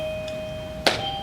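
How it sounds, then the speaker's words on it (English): Doorbell rings once indoors, a short bright ding standing out against a steady electronic hum with two sustained tones, heard alone with no talk. "I didn't know we had a doorbell."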